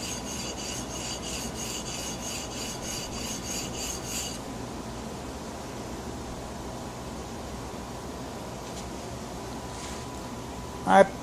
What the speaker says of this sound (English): I just want to grind the part that matters, so it cuts as quick as possible.